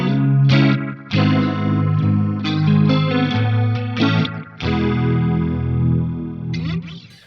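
An electric guitar runs through an EHX Stereo Electric Mistress with the modulation rate turned up fast, giving strummed chords a quick, wobbling chorus shimmer; several struck chords ring out loud and up front, alone.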